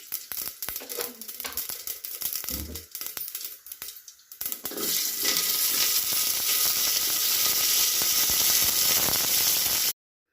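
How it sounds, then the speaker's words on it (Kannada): Onion and curry leaves dropped with mustard seeds into hot oil for a horse gram sambar, with clattering handling at first, then a loud steady sizzle of frying that runs for several seconds without talk. "ಸಾಸಿವೆ ಎಣ್ಣೆ ಈರುಳ್ಳಿ ಕರಿಬೇವು ಎಲ್ಲ ಹಾಕೋತಾ ಇದ್ದೀನಿ"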